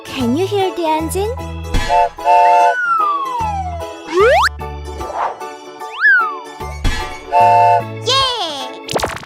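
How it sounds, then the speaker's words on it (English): A toy ambulance plays loud electronic effects: repeated beeping tones, springy boings and rising siren-like sweeps in short bursts separated by brief gaps. "Can you hear the engine?"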